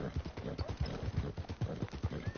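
Horse hooves in Red Dead Redemption II clopping at a steady walking rhythm, close and clear, with a quiet voice briefly murmuring underneath.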